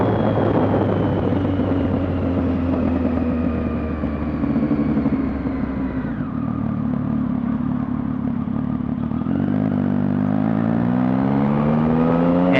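A 2015 Triumph Street Triple Rx motorcycle fitted with a Coffman's exhaust, baffle installed, rides along with a loud, steady engine drone that dips as it shifts midway, then climbs in pitch while accelerating again near the end.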